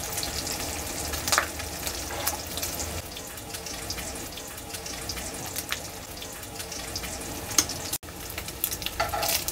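Food sizzles and fries in a pan in a home kitchen while supper is cooked, a continuous crackling hiss with occasional clinks and running water in the background, and no talking.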